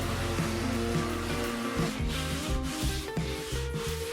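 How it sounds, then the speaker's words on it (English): The edges of a cured carbon fiber body panel are sanded with steady, close back-and-forth rubbing strokes. The strokes are moderately quiet, and a machine hum runs beneath them. "I had to do a bit of sanding just to round off all the edges"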